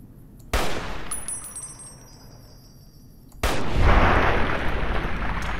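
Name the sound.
Chinese sniper rifle firing in Fallout New Vegas video game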